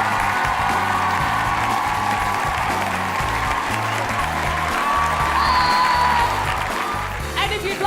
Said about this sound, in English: if you would like to support this team as the winners, start clapping now